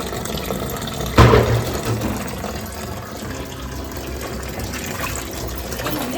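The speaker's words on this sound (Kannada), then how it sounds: "ಡೈರೆಕ್ಟ್ ಕೊಡ ಅಥವಾ ಬಕೆಟ್ ಏನಾದರೂ ಯೂಸ್ ಮಾಡಿಬಿಟ್ಟು ಅದರಿಂದನೇ ನೀರು ಡೈರೆಕ್ಟ್ ಇಲ್ಲೇ ಹಾಕ್ಬಿಡ್ಬೋದು" Water from a bucket pours into a semi-automatic washing machine tub, starting with a sharp splash and settling into a steady rushing fill.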